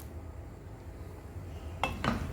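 Paneer cubes tumbling into thick masala in a pan, then a couple of close, sharp scrapes and clinks of a spoon against the metal near the end, after a quiet low hum.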